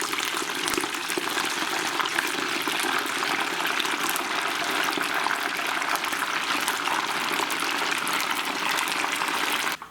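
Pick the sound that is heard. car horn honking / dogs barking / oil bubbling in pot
oil bubbling in pot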